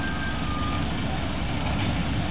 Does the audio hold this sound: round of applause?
no